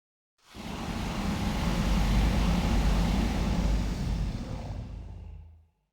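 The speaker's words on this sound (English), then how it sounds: "Now I just have to do the sound effects for the flamethrower" A sustained roaring whoosh of a Minecraft flamethrower effect starts abruptly, holds a broad rushing hiss for several seconds, then fades out; a synthetic effect with no voices.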